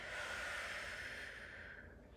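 During a stretching exercise in a posture class, a person lets out one long, soft breath through the mouth, close and quiet, fading gradually over about two seconds with no talk.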